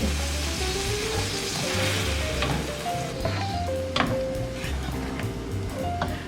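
Squid and black squid ink sautéing in a pan for paella negra, a loud steady sizzle with scraping stirs and occasional clinks of a utensil against the pan, close up and without talking.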